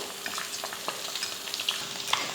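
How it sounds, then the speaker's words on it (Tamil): Masala-coated boiled eggs frying in a pan, a steady close sizzle with small crackles and pops, plus light scraping as they are turned. "இந்த மாதிரி ரெண்டு பக்கமும் அந்த மசால் படுற அளவுக்கு வறுத்துக்கிட்டால் போதும்"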